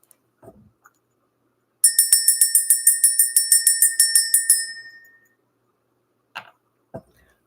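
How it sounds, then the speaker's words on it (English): A small bright bell rung in a quick series of about sixteen even, ringing strikes that fade out, after a few soft rustles; two brief knocks follow in an otherwise quiet room. "We're going to ring this bell."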